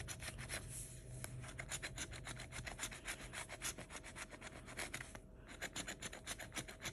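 A coin or scraper rubs the foil off an Emerald Mine 9X scratch-off lottery ticket, close up, in a steady run of quick, rasping back-and-forth strokes with no talk.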